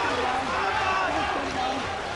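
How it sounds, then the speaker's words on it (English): A fight crowd at a DFC 2.0 MMA event roars and cheers continuously, a dense, loud wash of voices with excited commentary running over it. "And listen to this crowd."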